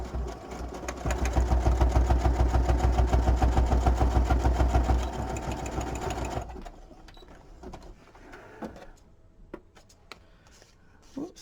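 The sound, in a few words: sewing machine zigzag stitching across a paper tag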